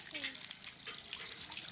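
Water runs and splashes from a tap in a steady, fairly faint hiss that continues throughout the short stretch, with a voice briefly heard at the start.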